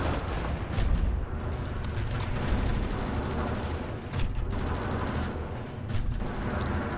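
Dense, continuous gunfire and battle noise in the shooter Wolfenstein: The New Order, a steady rumbling barrage of shots with bursts peaking near the start and around the four- and six-second marks.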